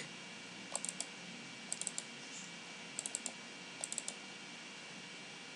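Computer mouse clicked in quick pairs, four crisp double clicks spaced across a quiet room, close and distinct over faint background hiss.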